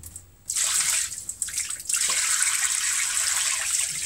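Water gushes and splashes as it is poured into a boat hull during a bilge pump test, a steady close pour starting abruptly with a brief dip midway.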